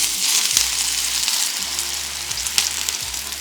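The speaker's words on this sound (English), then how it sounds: "And now we kind of let that sizzle and steam." Ham and cheese potsticker dumplings sizzle and hiss steadily in a hot pan, a loud continuous crackle with bursts of bubbling steam.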